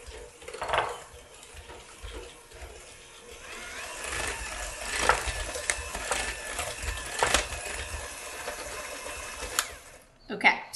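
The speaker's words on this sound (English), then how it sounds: "we're gonna start mixing this all together until you get sort of a nice creamy mixture" An electric mixer creaming butter and sugar with marmalade and orange zest for double chocolate biscotti, a steady whirring drone with swells in intensity, stopping abruptly near the end.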